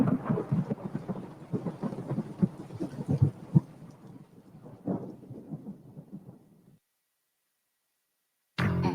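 Rumbling thunder in a radio advert for the Maibatsu Thunder vehicle, a loud rolling roar lasting several seconds that fades out, then a brief return of noise at the end.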